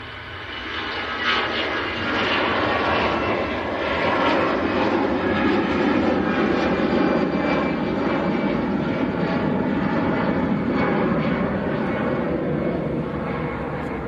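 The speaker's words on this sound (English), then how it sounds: "So this is EasyJet to Antalya." Loud, close EasyJet Airbus A320 jet airliner rolling on departure for Antalya at Manchester Airport, a steady roaring engine rumble with rising whine, sustained and strong throughout with no voices.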